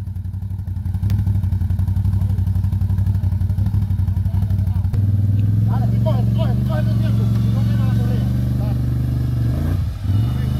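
A Can-Am off-road vehicle working through mud, its engine droning loud and steady near the listener, with a rise in pitch partway through and people talking over it.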